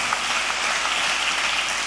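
A church congregation clapping together, dense continuous applause filling the room at a steady, loud level.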